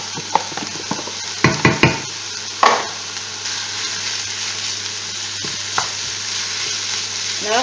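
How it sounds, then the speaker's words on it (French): Ground beef frying in a pan for spaghetti bolognese, a steady close sizzle broken by a cluster of sharp scraping stirs early on and a few lighter knocks later, with no voices. "Là, on ajoute notre viande hachée."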